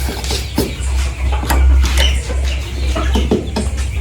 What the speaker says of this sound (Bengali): গোল্ডেন লেস ওয়াইন্ডট এগুলো সব পুরানো ফার্মের মুরগি ওখান থেকে এখানে আজকে ট্রান্সফার করেছি